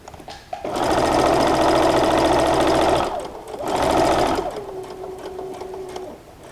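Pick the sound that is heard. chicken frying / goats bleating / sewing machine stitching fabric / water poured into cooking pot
sewing machine stitching fabric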